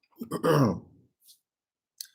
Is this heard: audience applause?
no